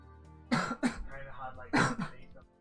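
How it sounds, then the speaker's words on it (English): Two sharp coughs near the start, then two more about a second later, close and loud, separated by quieter throat noises. "Apologies for the coughs."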